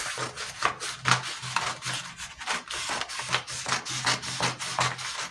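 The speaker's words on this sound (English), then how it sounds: "So I'll just go ahead and trim it off." Scissors cut through a paper pant pattern in a steady series of short rasping snips, close and moderately loud, with no voices.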